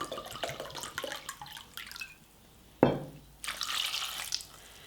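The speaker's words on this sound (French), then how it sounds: "je vais les faire bouillir en mettant à partie égale moitié de vinaigre et moitié d'eau" Vinegar and water poured over fennel in a saucepan, a splashing, trickling pour with drips and a short sharp clink, fairly close and quiet, with no talking.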